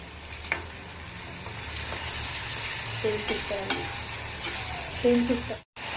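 Tomato puree is added to a pan of frying aloo matar sabzi, producing a continuous sizzle with stirring scrapes and a few light utensil knocks close by, no one speaking.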